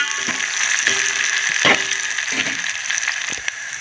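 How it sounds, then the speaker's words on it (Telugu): Steady crackling sizzle of spices tempering in hot oil for a moong dal and sorrel leaf dish, with a few sharp pops and clicks scattered throughout. "చక్కగా మనకి పోపు చక్కగా వేగిందన్నమాట"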